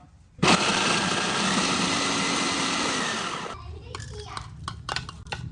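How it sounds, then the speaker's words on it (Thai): A blender grinding dry chili paste without added liquid whirs loudly and steadily for about three seconds, then cuts off abruptly, followed by a person speaking and light clattering. "ปั่นแบบแห้งๆแบบนี้นะครับ"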